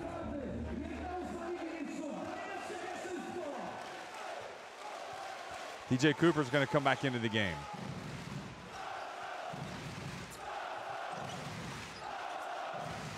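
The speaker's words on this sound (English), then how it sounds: "Crowd's into it now. They can feel it." Basketball arena crowd noise, a steady murmur and cheer rising under a commentator's talk, with a brief burst of rapid loud banging in the middle.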